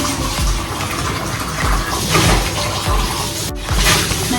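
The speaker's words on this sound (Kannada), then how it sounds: "ಈ ಥರ ನೀರು ಹಾಕೊಳ್ತಾ ಇದ್ದೀನಿ." Water poured into a cooking pan makes a continuous close gushing, splashing flow that rises and falls slightly over a few seconds, with no voices.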